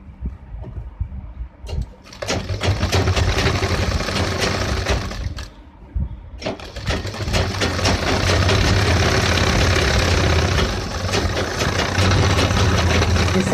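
A sewing machine stitches a gents' pant in loud, steady runs, pausing briefly twice before resuming its continuous whirring drone.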